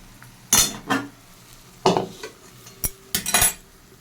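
Greens being stirred and dried out in an oiled kadai, a spatula scraping the pan in several short bursts with a faint sizzle between strokes, close by and with no talk.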